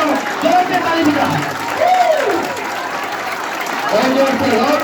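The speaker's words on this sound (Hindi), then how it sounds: "मेरे दो जवान भाई ताली बजाओ" Steady group hand-clapping fills a church congregation at a Christian sermon, a thick, sustained wash of applause with a voice speaking loudly over it.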